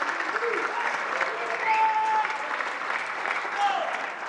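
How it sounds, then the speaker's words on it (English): Applause from the audience at a boxing press conference for the Jake Paul vs. Tommy Fury undercard in Riyadh, a steady roomful of clapping, fairly loud and sustained, with a faint whistle or two rising above it. "A big round of applause to all of our undercard and our prelim panel"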